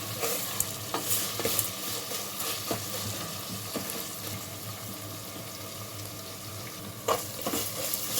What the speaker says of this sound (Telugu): ఆయిల్లో బాగా ఫ్రై చేసుకోవాలి